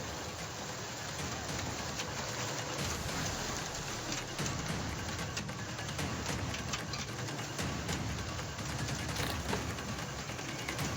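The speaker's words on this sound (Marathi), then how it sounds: "तर आपण हे दृश्य पाहतोय कशा पद्धतीने पाऊस पडायला लागला।" Sudden rain with hail pelting crop fields of wheat and sorghum in Satara, a steady dense hiss of falling water with scattered sharper patters, continuous and fairly loud throughout with no voices.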